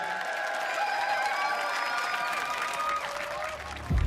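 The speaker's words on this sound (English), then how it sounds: "Give them a round of applause." A studio audience claps and cheers for the fighting robots Ironside and Pulsar at a Robot Wars televised combat event, sustained applause throughout that fades slightly toward the end.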